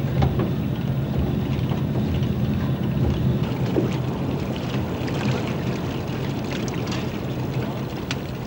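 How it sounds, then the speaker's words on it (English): Squid fishing boat out at sea off the Tasmanian coast, its engine giving a steady low drone mixed with wind buffeting the microphone, continuous and fairly loud throughout. "The specially equipped fishing boats harvesting squid off the Tasmanian coast are really floating fishing platforms."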